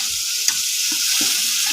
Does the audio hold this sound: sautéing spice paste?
yes